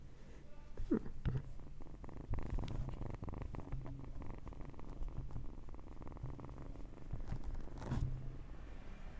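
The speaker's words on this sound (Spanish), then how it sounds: "Si le suben, puede escuchar cómo ronronea." A cat purrs steadily at close range, a low continuous rumbling vibration with occasional rustling and scraping noises over it.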